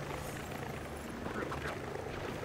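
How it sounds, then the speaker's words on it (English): A small helicopter in the LEGO Star Wars video game whirs with a steady rotor drone, faint and low under people talking throughout. "Little helicopter."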